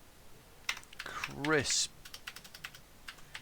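Light taps on a computer keyboard sound close and quiet and irregular across the moment, while a person speaks a word over them partway through.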